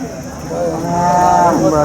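At a cattle market in Sangola, a cow lets out one long, loud, drawn-out moo close by.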